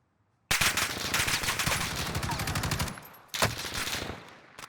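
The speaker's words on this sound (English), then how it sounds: "You notice he's shooting like tracer rounds at me." Rapid automatic gunfire from a Warzone solo match, firing tracer rounds, in one long burst followed by a short pause and a second burst, loud and close over game ambience.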